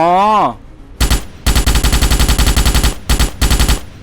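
Rapid automatic fire from a gun in the Starship Troopers video game, loud close bursts of fast repeated shots with brief pauses between them, preceded by a short spoken phrase.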